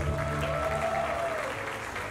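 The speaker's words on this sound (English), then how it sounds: "Big round of applause, please." Applause from the audience at a swimwear competition during a male pageant, a soft, distant wash of clapping with a faint tonal hum running beneath it.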